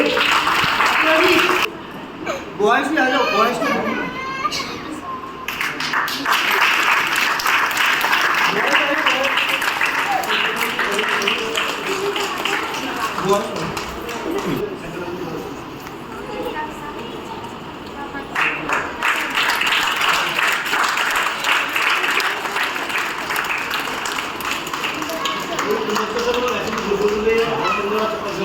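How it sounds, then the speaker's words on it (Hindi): An audience at a charitable society's satsang gathering claps for young camp volunteers, sustained applause that rises and dips, with a voice calling out over it early on. "सब इनके लिए जोरदार ताली बजाएंगे।"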